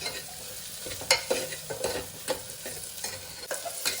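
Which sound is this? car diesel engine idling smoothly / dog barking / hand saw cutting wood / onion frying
onion frying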